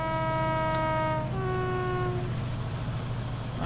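A Class 68 diesel locomotive in a Train Sim 2021 run between Manchester Victoria and Huddersfield sounds a two-tone horn, a sustained chord that steps down in pitch, over a low engine drone that continues alone afterward.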